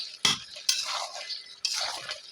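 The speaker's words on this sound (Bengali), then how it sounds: "দিয়ে নাড়া দিয়ে দিচ্ছি।" Fried eggs are stirred into a pumpkin curry in a pan, giving three sharp scraping knocks of a spoon against the metal. Each knock is followed by a rustling, sizzling shuffle, heard close with no voices.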